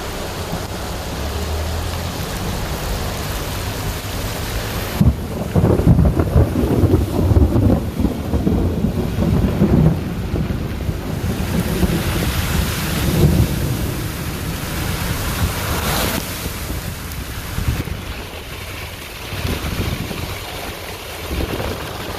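Heavy rain pours steadily during a flash flood with a dense wash of noise, punctuated by gusty rumbles and wind buffeting the microphone.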